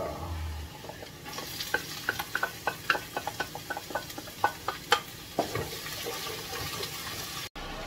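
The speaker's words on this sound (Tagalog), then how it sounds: "Nilagay ko na yung karne guys. Nagisa na yung ating mga sibuyas, bawang." Meat sautéing in a pan with onions, garlic and a little ginger for sinigang, with steady sizzling broken by a run of close clicks and clatters from stirring, then a softer, even hiss.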